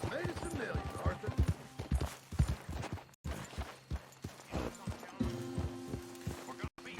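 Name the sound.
horse hooves in Red Dead Redemption 2 video game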